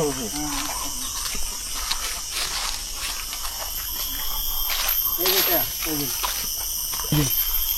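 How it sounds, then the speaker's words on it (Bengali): Forest insects in Chilapata's core jungle give a continuous high, bell-like ringing drone that pulses throughout, with people talking close by over it. "কি ডাক এটা? পোকার ডাক।"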